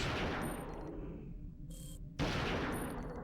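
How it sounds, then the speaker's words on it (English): Gunfire in a video game, with bursts of rapid shots in quick succession, a short pause, then another loud burst, heard without any talk. "It's like 5 shots after he starts taking damage."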